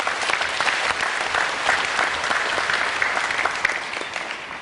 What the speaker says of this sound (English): I'd like us to give them a round of applause,